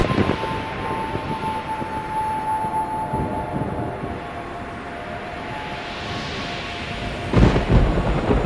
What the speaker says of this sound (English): as thunder cracks, flashes of lightning will lead your way